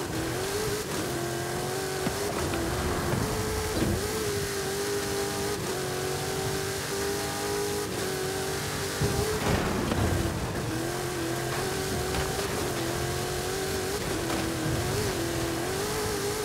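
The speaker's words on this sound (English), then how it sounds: "There are some really fast cars in this final." Race cars in the Forza Horizon 5 driving game rev and accelerate hard for the whole stretch, a loud continuous engine whine rising and dropping through gear changes, with a brief tire squeal and no talk over it.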